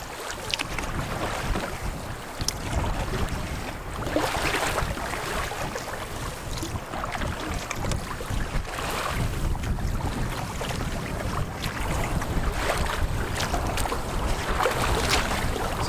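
Large lake swells slap and wash around a paddled canoe or kayak, an irregular surging splash under steady wind buffeting the microphone.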